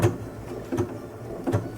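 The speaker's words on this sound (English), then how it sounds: "So we'll start with a lock stitch or a back stitch." A sewing machine begins a lock stitch on a bag strap, giving three short bursts of stitching roughly 0.75 seconds apart, each with a soft mechanical thump, in a quiet room with no one talking.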